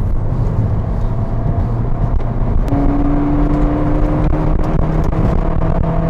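2008 Mini Cooper S turbocharged car accelerating at speed, heard from inside the cabin: a loud, steady engine drone with a rising tone as revs climb, over constant road and wind roar.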